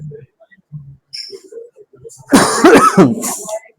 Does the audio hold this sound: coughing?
yes